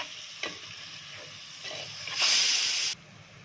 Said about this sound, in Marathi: आता घालते वांगे, सगळं एकजीव करून घेऊ।